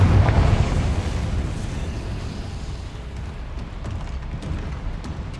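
Confringo spell blast in Hogwarts Legacy: a loud rumbling burst at the start that trails off into a long, diminishing roar with faint crackles.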